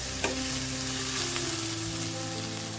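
Onions sautéed in a pan for a beef curry sizzle continuously, loud and close, with a few stirring scrapes over a dense frying hiss and no talking.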